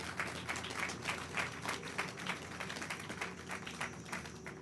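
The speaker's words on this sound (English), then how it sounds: "give her a round of applause." Audience applause at a building topping-off ceremony, a crowd clapping in a brisk, continuous patter of individual claps at moderate distance.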